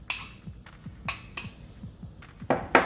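Eggs being beaten for a homemade meatloaf, with a fork or utensil clinking sharply against a bowl in several quick separate strikes, close and loud, with no talking.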